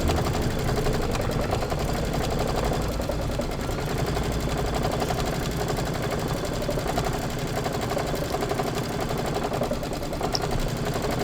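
A home sewing machine stitches continuously during a quilt sew-along, giving a steady, fast mechanical whirr with a constant rhythmic clatter throughout, close and fairly loud.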